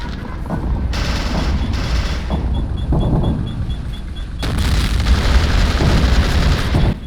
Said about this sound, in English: that chicken house is apparently bulletproof, because you see I'm shooting that shit, even with tank cannon shells